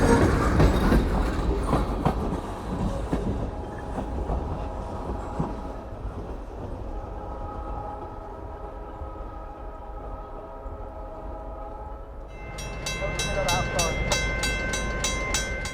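A 70-year-old short line locomotive, number 1203, hauls a lengthy consist of empty freight cars, including LPG tanks, with steady rumbling and clanking throughout and a louder, brighter passage of wheel and engine noise near the end.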